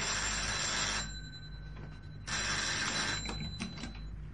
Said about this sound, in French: Allô? Ah, c'est pour vous, Fouvreau.